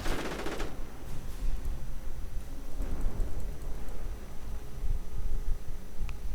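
Rifle gunfire in a real-time strategy battle game, a steady rattle of rapid automatic shots and scattered bursts over a constant roar of battle noise, with no talking.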